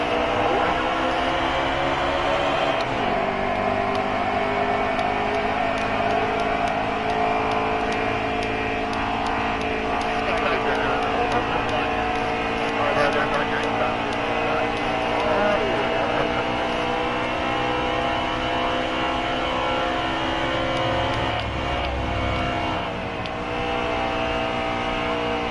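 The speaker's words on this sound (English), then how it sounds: "Green flag is back out, we're racing." Stock cars racing at Homestead Speedway in the Miller Lite Cup Series: a loud, continuous engine roar close by for the whole stretch, with the pitch rising and falling as the cars accelerate and shift, and a brief dip near the start.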